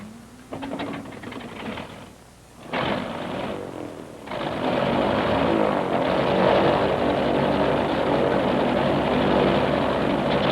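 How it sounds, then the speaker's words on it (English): A piston-engined aircraft's droning propeller engine roars steadily, rising in loudness partway through and holding a constant buzzing hum to the end. "Let's start with the piston-engined aircraft."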